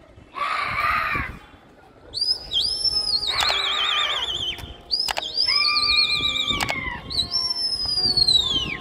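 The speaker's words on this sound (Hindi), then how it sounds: "बड़ा मजे का उड़ा कबूतर" Brief bursts of wing flapping as a racing pigeon takes off in a Delhi pigeon-flying session, mixed with repeated loud rising whistles, likely from the handlers, that carry through most of the clip.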